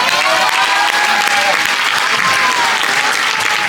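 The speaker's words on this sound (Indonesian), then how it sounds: "Tepuk tangan." Loud, steady applause from an audience at a scout motivation talk held at a pesantren, continuous clapping throughout with faint voices mixed in.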